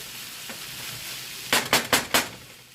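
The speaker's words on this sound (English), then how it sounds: "Kind of a fajita sausage hoagie thing happening here." Sausage and peppers sauté in a pan under a soft, steady sizzle, then four quick, loud stirring scrapes follow in close succession near the end.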